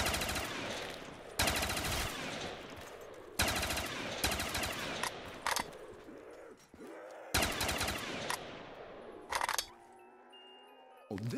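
Rifle and automatic gunfire in a Black Ops 3 custom zombies map, rapid bursts of shots in repeated loud volleys separated by short pauses, ending with a quieter tail.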